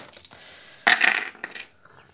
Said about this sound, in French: On va aller chercher les breloques.